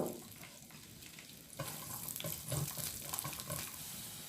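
Soft, faint sizzle of garlic frying in oil for vongole pasta, a continuous crackling hiss that grows a little louder partway through.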